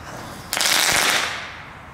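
Aldi consumer fireworks go off outdoors at New Year, a sudden loud crackling burst that lasts about a second and then fades.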